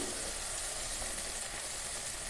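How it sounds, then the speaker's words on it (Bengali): Mustard and green chilies sizzle in a hot pan for a fish curry, a dense, even hiss that holds steady and close throughout. "সর্ষে কাঁচা লঙ্কা একটু কষিয়ে নেব"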